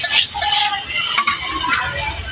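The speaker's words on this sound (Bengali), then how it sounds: "এবার ভাজা ভাজা করবো" Bharta frying in a pan, a loud steady sizzle with continuous scraping and stirring strokes of a spatula close up, no voices.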